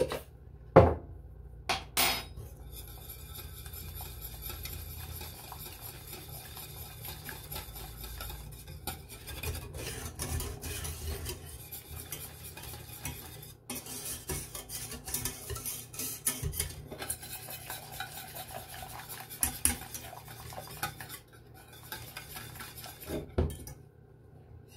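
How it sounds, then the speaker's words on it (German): Mixing paprika spices in a small bowl with a spoon, repeated light clinks and scraping of metal against the dish, close and fairly quiet, with no talk. "Paprika, Spitzpaprika, rosenscharf, edelsüß, ich mische das."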